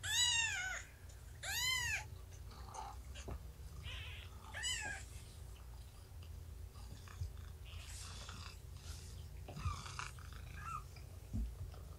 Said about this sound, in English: Do you hear your mommy purring?